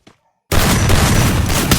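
In a lone wolf video game match, a loud, dense burst of rapid gunfire erupts after brief silence and continues steadily at close range.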